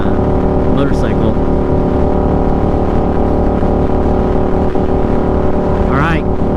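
A 2017 Suzuki SV650 motorcycle on a commute ride gives a loud, constant engine drone with heavy wind rush throughout, and no talk.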